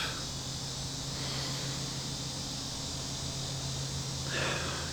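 Cicadas buzzing outdoors in summer, a continuous, loud, dense drone that swells slightly near the end, with a low steady hum beneath it.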